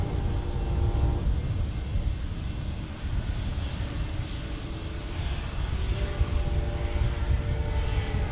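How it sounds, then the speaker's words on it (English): An Airbus A320neo airliner at San Diego airport makes a loud, sustained engine roar with a rough low rumble and a few tonal whines drifting through it. "On an A320neo going back to Las Vegas."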